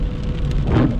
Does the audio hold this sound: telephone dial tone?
no